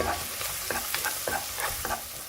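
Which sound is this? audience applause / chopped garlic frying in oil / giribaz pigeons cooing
chopped garlic frying in oil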